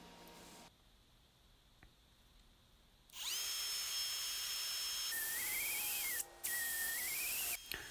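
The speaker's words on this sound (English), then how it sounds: "So here's just making pilot holes" A power drill bores pilot holes in wood while building a custom king bed, starting faintly, then a loud steady whine with the pitch rising and dipping as the bit bites, briefly stopping before resuming.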